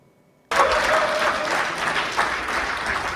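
Applause and cheering erupt abruptly after a brief quiet at a community association night with an officer inauguration, held in a banquet hall in Flushing, Queens, then stay as a loud, continuous crowd roar.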